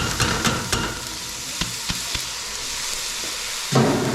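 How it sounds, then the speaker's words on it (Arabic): Sautéed onion being stirred into washed rice in a pot with garlic, a steady sizzle broken by several sharp scraping knocks of the spoon against the pot and a louder clatter near the end. "وهنقلب البصلة في الرز"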